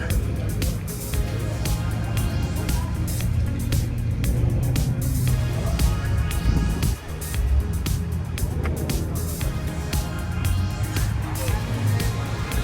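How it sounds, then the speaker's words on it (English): Porsches and a ZR1 Corvette roll into a cars and coffee show in Edinburg, Texas, their engines rumbling at low speed amid a steady crowd murmur and people chatting nearby. "Porsche crew rolling in. ZR1 Corvette."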